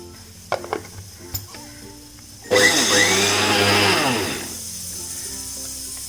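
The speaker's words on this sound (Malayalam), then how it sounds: "ഇങ്ങനെ സൈഡ് ഒതുക്കി ഒതുക്കി വെച്ചിട്ട് പൊടിച്ചെടുക്കണം." An electric mixer grinds rice for neyyappam in a loud whirring burst of about two seconds that winds down at the end, with a few light knocks and clicks of handling before it.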